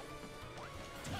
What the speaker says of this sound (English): Up smashes that reach very high.